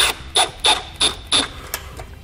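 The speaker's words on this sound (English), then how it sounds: "We can take a Phillips bit and a 5/16 wrench to hold the back side and get them tightened down." Bolts being tightened with a Phillips bit and a 5/16 wrench while fitting a Tekonsha Prodigy P3 trailer brake controller on a 2018 Jeep, heard as five or six quick, close ratcheting clicks in an even rhythm.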